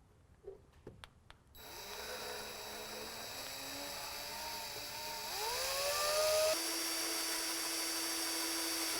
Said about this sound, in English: Now we're going to use the 1/8 inch drill bit to go ahead and do our pilot hole.